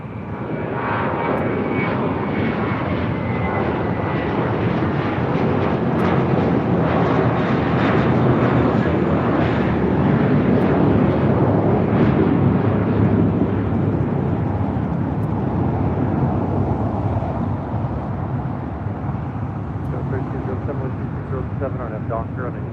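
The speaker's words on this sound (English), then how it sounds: "That was American Airlines A321 heading to JFK." An American Airlines Airbus A321 taking off from Los Angeles airport, a loud, sustained jet roar that swells and holds for over twenty seconds, close by and unbroken.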